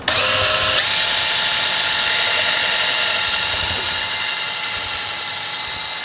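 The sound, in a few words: power drill drilling through meat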